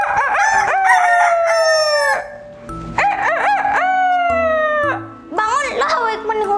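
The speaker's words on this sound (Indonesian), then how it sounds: "para penghuni hutan terbangun karena suara sang jago" Loud, close rooster crowing in repeated long cock-a-doodle-doo calls, about three of them separated by brief pauses, with low clucking between.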